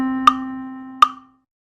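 Two evenly spaced struck tones over a steady sustained pitch, illustrating a dotted half note held for three beats in a children's music lesson; clean and close, with no talking.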